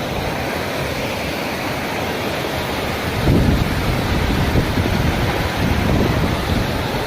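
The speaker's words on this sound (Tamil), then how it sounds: "கம்மா நிரம்பி தண்ணி நிறையா போய்கிட்டு இருக்குது" Water pours from an overflowing village tank in a steady, close, broadband rush that swells louder about halfway through, with no voices.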